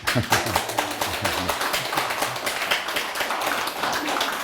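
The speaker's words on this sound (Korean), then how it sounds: "일단 좀 박수라도 좀" Audience clapping at a Korean panel talk, a steady spread of hand claps running throughout with a low voice talking underneath in the first part.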